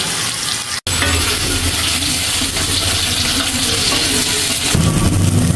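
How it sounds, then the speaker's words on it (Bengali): Fish fries loudly in hot oil, a dense, continuous crackling sizzle close up that drops out for an instant near the start and then carries on unbroken; no one speaks. "তো মাছ ভাজি হয়ে গেছে"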